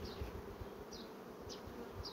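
A honeybee buzzes steadily and close by for a couple of seconds, a continuous droning hum with no voices.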